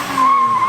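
Tires on a Lexus SC300 drift car let out a brief, loud, high squeal as the car skids, a sustained screech that lasts under a second.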